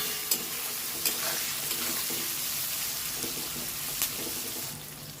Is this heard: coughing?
no